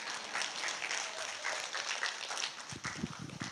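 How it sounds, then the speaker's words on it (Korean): Lecture audience of older adults at a free investment seminar clapping briefly, a moderate patter of applause that thins out and fades into scattered handling noise toward the end. "치던 박수 맞아 쳐야지"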